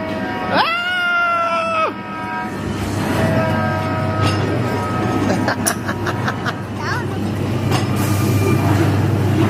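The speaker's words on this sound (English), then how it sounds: "the train coming" A roller coaster train at Blackpool Pleasure Beach rumbles past loudly and steadily, with a high horn-like whistle early on, metallic squeals and rhythmic clanks over a constant low roar.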